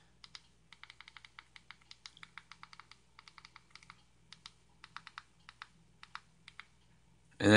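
Computer keyboard typing a channel name, a near series of light, quick key clicks in short irregular bursts, ending with a sudden louder noise.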